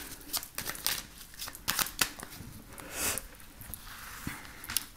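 Tarot-style cards shuffled for a card reading, a quiet close riffle and slide of many cards in irregular bursts with sharp flicks, alone without any talk.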